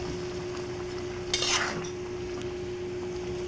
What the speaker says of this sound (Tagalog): haluin na ni partner yung niluluto nating gata.